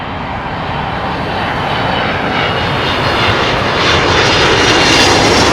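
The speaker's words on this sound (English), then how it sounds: "United Airlines 777-200 coming in from San Francisco." A United Airlines Boeing 777-200 lands at London Heathrow after a flight from San Francisco, its jet engines a loud, close roar that swells steadily toward the end, with no talking.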